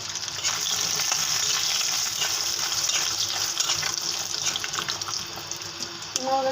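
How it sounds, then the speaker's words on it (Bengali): Pumpkin bori, dried lentil dumplings, fry in a pan of hot oil, giving a steady close sizzle and hiss that runs unbroken for the whole stretch with no talking. "এখন দেখুন এই তেলের ভিতরে আমি কুমড়ো বড়িগুলো দিয়ে ভেজে নেবো"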